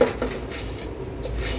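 A lid set onto a pot of roasting semolina and ghee gives a quick metallic clatter at the start, followed by a second lighter knock and a low steady hiss.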